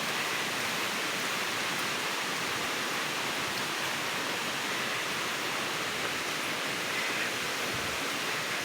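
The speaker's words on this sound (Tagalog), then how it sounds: "Ang maririnig mo lang dito o lagaslas ng ilog." A river rushes through a forest in light drizzle, producing a constant, loud broadband roar of flowing water with no pauses.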